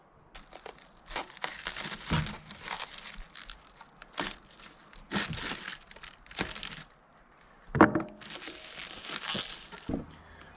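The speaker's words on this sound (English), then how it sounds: "I'll do some taping here as we go." Tape is pulled off a roll and pressed down in several separate bursts of crinkly tearing and rustling, with a sharp loud rip near the end and quiet gaps between, no talk.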